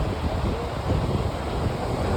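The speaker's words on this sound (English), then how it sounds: "You hear the water splashing. There's the ocean waves" Ocean waves splash on a tropical beach in Puerto Vallarta on a warm afternoon. The surf rumbles steadily and fairly loudly, heavily mixed with wind buffeting the microphone.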